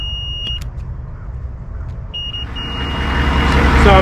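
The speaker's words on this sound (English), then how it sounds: "Let me go ahead and change that setting so it makes that beeping noise," A digital multimeter gives short, high continuity-test beeps, first a brief pair and then a longer sustained tone. Recorded while working on the fan system of an AM General M1123A2 HMMWV truck, with steady low engine or vehicle rumble underneath.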